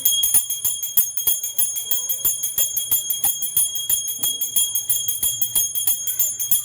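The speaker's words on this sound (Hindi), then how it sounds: "बजा दी हमने घंटी" A temple bell is struck repeatedly in a quick, steady rhythm, its bright ringing tone sustained and close throughout.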